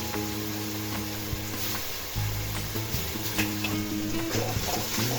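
A paste of ground shallots and green chili sautés in a pan for a Malabar chicken biryani gravy, with a steady sizzle, low stirring scrapes and a louder burst of frying after the paste drops in partway through.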